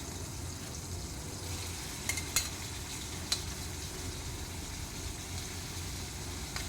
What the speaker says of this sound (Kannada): ನಾವು ಬೇಯಿಸಿಟ್ಟ ತೊಂಡೆಕಾಯಿಯನ್ನು ತಗೊಂಡು ಫ್ರೈ ಮಾಡಿ ಸೈಡಿಗೆ ಇಡಬೇಕು